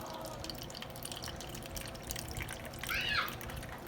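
Balsamic vinegar poured into a pan, a faint liquid trickle and dripping under a low steady background, rising slightly toward the end.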